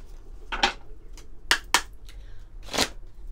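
Oracle cards are shuffled in a few quick, crisp riffling bursts separated by pauses, close and fairly quiet against a hushed room.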